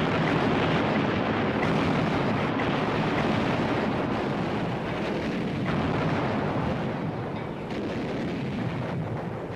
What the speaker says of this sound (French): les canons des forces navales entament l'un des bombardements les plus longs de la guerre.